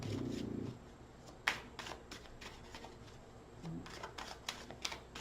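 Oracle cards shuffled by hand during a reading: soft, papery riffling and slapping in short bursts, fairly quiet, with a brief murmur of a voice at the start.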